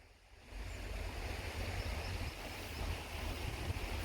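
Steady rushing of a woodland stream, a continuous broadband wash of flowing water fading in at the start and holding an even, moderately close level throughout with no voices.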